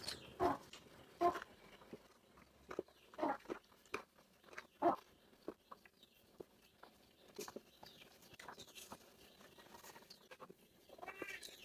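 Crunchy chewing up close, a few loud crisp bites followed by softer irregular munching in a quiet room.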